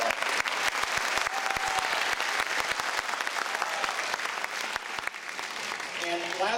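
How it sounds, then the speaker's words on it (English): An audience at a school dismissal gathering applauds with dense, steady clapping that holds throughout. "Give yourselves a round of applause."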